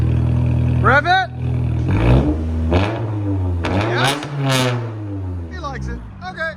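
From inside the cabin, a Toyota Camry SE 2.5L fitted with Magnaflow exhaust is revved several times in quick bursts, loud and close, with people talking between the revs.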